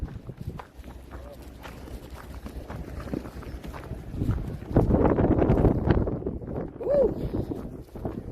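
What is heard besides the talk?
wind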